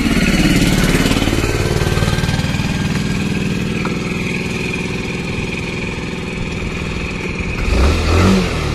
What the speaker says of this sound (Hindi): और अब मैं आपको एक बार ये स्कूटर स्टार्ट करके दिखाता हूँ।